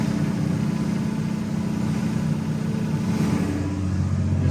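On snowmobile trails at Tug Hill, New York, a steady, fairly loud engine drone holds for several seconds, heard from a moving vehicle as a trail groomer approaches from the opposite direction.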